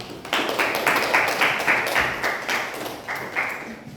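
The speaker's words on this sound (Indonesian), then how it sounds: "Tepuk tangan untuk kalian semua." Students in a classroom applaud together, a close burst of many hands clapping in a quick rhythmic patter that holds steady and tapers slightly toward the end.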